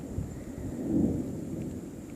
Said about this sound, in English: First experience of thunder snow though, so that's neat.